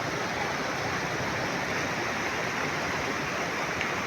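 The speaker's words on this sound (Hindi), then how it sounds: "आई लो मौसम बनी हुई से देखो आई बारिश है" Steady rain pouring down outdoors, a dense, even hiss holding throughout without pause, loud and close with no voices.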